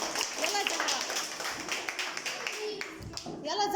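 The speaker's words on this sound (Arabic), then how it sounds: "يلا صفقوا له" Classroom pupils clap in a quick, uneven burst for a classmate during a fifth-grade science lesson, with a teacher's voice and children's chatter mixed over the clapping.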